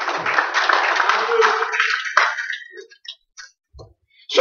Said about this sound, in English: Let's give them a hand clap of praise